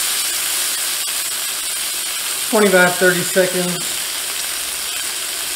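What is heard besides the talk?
steak edges searing in a cast iron pan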